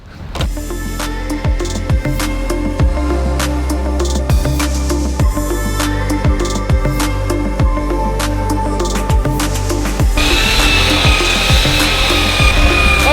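A belt sander running 80-grit over wood, a loud continuous close-up grinding whir with repeated scraping knocks as the piece is worked, growing harsher near the end, no voices.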